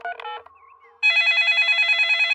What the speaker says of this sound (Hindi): हम उन्हें फोन करते हैं।